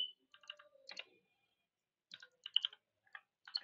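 Keystrokes on a computer keyboard entering an Ubuntu Linux terminal command, quiet close clicks in short bursts separated by brief pauses.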